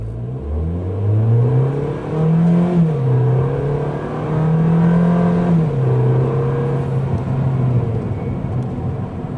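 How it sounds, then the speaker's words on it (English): A small engine being broken in with a series of slightly stronger throttle pulls drones loudly and steadily, its pitch climbing and dropping back several times with no one talking. "for the second pull you do another series of pulls with slightly higher throttle."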